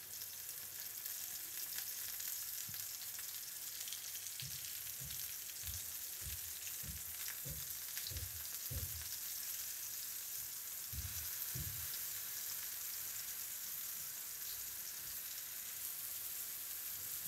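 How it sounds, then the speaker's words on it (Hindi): Tomatoes fry in a pan with a steady, bright sizzle throughout, with a few soft low thumps and taps of the pan or utensil midway. "टमाटर हमारे एक साइड से अच्छी तरह से फ्राई हो गए हैं"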